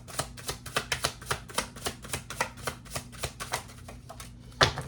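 A deck of tarot-style reading cards being shuffled by hand: a steady run of quick riffling bursts and soft slaps, close and clear, with a low background hum and no talking over it.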